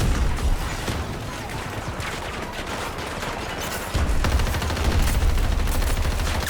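Sustained automatic fire from an M16A3 rifle in the shooter game Battlefield 2042, a dense, loud stream of rapid shots with a heavier burst after the midpoint, running continuously without pause.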